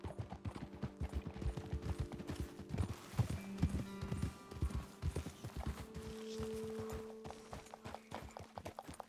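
Horses' hooves clip-clop steadily on a trail in Red Dead Redemption 2, fairly close and rhythmic for several seconds, with a faint musical tone underneath.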